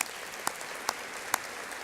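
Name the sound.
applause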